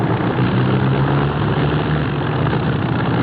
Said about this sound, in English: I don't like the sound of that engine.